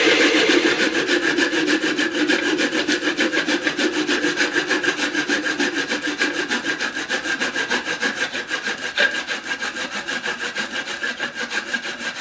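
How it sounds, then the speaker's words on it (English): A hand saw cuts steadily through a wooden segmented bowl taken off the lathe, producing a loud, close, rhythmic rasping of fast even strokes throughout, no voices. "shut the lathe off, and then just use a saw"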